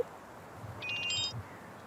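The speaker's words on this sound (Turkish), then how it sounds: "Bir alttan sürekli bir telefon çalıyor." A telephone rings faintly on the floor below: a single brief burst of trilling electronic ringing, muffled and distant over a low background hum.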